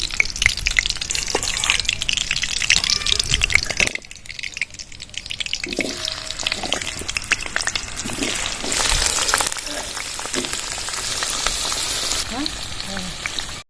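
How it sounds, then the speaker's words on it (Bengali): Cinnamon, cloves and cardamom tempering in hot mustard oil for a potol kalia, giving a steady close sizzle and crackle with a brief quieter dip midway, then continuing bright frying noise. "সর্ষে তেল দিয়ে দিচ্ছি ফোড়নে এর দারচিনি লবঙ্গ আর এলাচ ফোড়নে দিয়ে দিচ্ছি"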